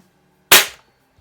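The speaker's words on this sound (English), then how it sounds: "so I'm going to shoot at the upper bullseye there" A single sharp report from a Barra Cowboy Series model 1866 .177 pump pellet rifle fired at a bullseye target, a close, loud crack with a short decaying tail, then quiet.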